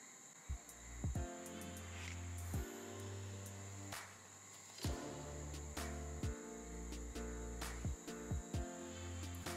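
Toads croaking at night in a steady, layered chorus of low droning calls that pause and resume together, with sharp clicking and rasping notes popping out near the listener.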